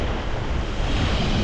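Atlantic ocean waves breaking on a beach, a steady wash of surf with wind buffeting the microphone, close and continuous.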